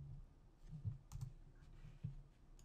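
Keys clicking on a computer keyboard during CAD software work in Rhino 4.0, a short burst of a few soft taps, faint and close, with no talking.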